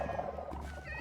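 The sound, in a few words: cats purring in a video game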